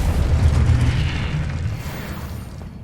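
The Confringo explosive spell going off in Hogwarts Legacy, a loud booming blast with deep rumble that tails off over a few seconds.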